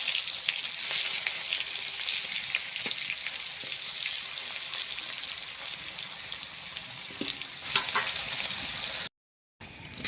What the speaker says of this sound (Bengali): দেখো আলুটাও লাল করে ভেজে নিয়েছি আমি।